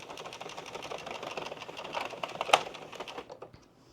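An Addi knitting machine is cranked in a quick, even run of soft mechanical clicks and clatter, with one sharper knock near the end before the sound fades out. No voices.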